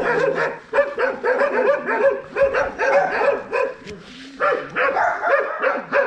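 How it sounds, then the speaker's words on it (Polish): Several dogs bark loudly and repeatedly in rapid overlapping bursts on a cold day near a farm, close by and nearly continuous, with people talking over them. "Chodź tu, bo one za głośno szczekają, nic nie słychać."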